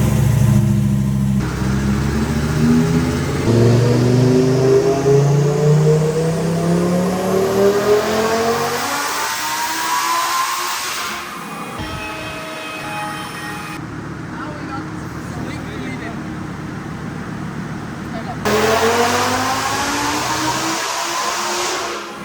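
A powerful twin-turbo Lamborghini engine roars and revs repeatedly on a dyno indoors, rising and falling in pitch, loud and close, with a person talking over it at times.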